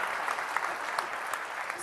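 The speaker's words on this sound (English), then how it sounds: "Can you just help me give one more round of applause for all the speakers?" Brief, steady applause from a conference audience honouring the speakers, a moderate wash of clapping with a few sharper nearby claps and faint voices mixed in.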